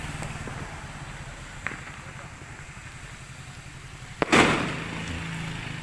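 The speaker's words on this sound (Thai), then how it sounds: "อันนี้เสียงประทัดเสียง" A sharp firecracker bang followed by a crackling burst of fireworks at a Loy Krathong festival, loud and fairly close, over an idling engine rumble and faint background noise.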